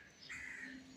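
A crow near its nest in a tree gives a single short call, faint and somewhat distant, over quiet outdoor background.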